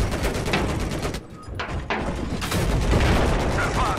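Turret fire in the shooter Battlefield 4, a dense rapid stream of loud gunshots with a brief lull in the middle before the barrage resumes, close and harsh.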